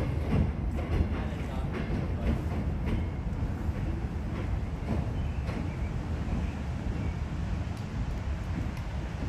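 An MBTA locomotive shoving a train on the Reedville switcher, heard as a steady, loud rumble of rolling rail cars with low engine drone and faint clicking of wheels over the track throughout.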